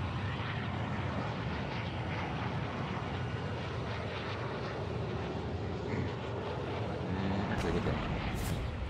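Airplane engine drone in the Call of Duty Warzone 3 video game, a loud continuous roar with a rumbling low end that holds steady for the whole stretch, with no talking over it.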